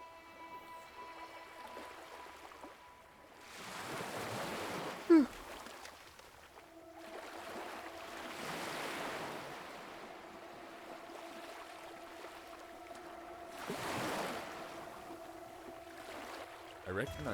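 Water lapping in the video game Caligo, soft waves washing in and receding in slow swells about every five seconds, faint and distant over a low steady hum.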